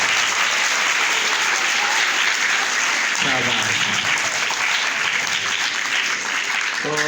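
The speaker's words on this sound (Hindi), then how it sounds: "तालियों के साथ बताएंगे।" An audience gives steady, sustained applause throughout, dense and fairly loud, with a voice briefly speaking over it.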